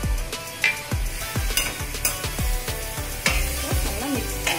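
Poha stirred with fresh coriander in a pan, with a spoon scraping and tapping against the metal in a steady rhythm of close, repeated strokes and a light sizzle underneath.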